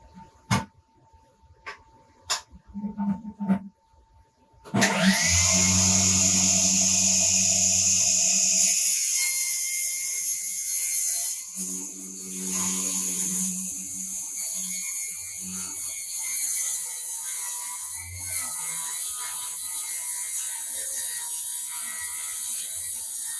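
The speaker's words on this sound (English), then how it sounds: "so let's get to cutting the first board." Power saw cutting a wooden board on a Milwaukee M18 outfeed table, with a few clicks and knocks, then a loud motor whine that spins up and holds steady as the blade works through the wood for nearly twenty seconds.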